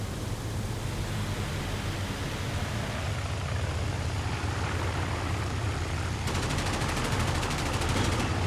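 Aircraft machine guns fire in the IL-2 Sturmovik flight sim over the Kuban, a dense rapid rattle buried in a constant roar of engine and wind noise, loud and continuous throughout.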